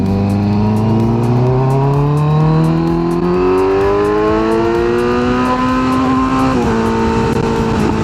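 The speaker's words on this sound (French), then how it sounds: "on va se faire une petite accélération, relance en troisième sur le pont" A 2024 Kawasaki Z900 motorcycle accelerating hard in third gear on a bridge, engine pitch climbing steadily and loud with a strong rising whine, close to the rider and wind buffeting throughout.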